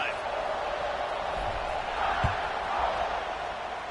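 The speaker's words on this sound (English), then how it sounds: "this crowd is feeling themselves after that last drive" A stadium crowd roars in College Football 26, a broad, steady wash of cheering throughout, with a commentator speaking over it and a single dull thud partway through.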